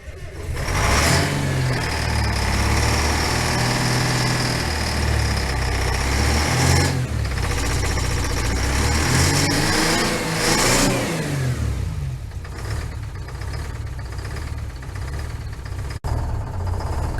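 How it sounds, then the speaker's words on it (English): An old Ford snow truck engine fires up and revs hard, rising and falling in loud, screaming surges several times, then settles into a rougher, quieter running idle near the end. "Got the Screaming Ford started"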